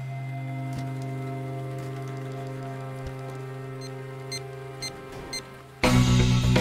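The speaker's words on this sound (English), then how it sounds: "Oh, right, we're in the rain." Rain falls in the physics game Teardown, a soft, steady patter under a low droning hum, with a few sharp knocks and a sudden loud burst of noise at the end.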